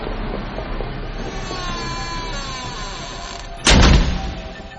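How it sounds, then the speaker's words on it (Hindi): A room door in a hotel slams shut with a single loud, sharp bang near the end, cutting through a quieter droning background. "कमरे का दरवाजा जोर की आवाज से अचानक बंद हुआ"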